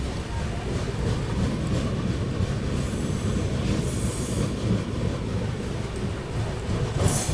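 A superfast express runs through Thokur station where the Konkan Railway begins, heard from onboard as a loud steady rumble of wheels with brief squeals and rushing air.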